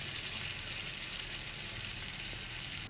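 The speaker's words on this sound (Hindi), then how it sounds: "1 मिनट हो चुका है, हमारे टमाटर भी फ्राई हो गए।" Tomatoes frying in a pan in a home kitchen, a steady loud sizzle that holds evenly throughout, with no voices.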